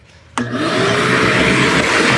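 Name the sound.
vacuum cleaning a pickup truck interior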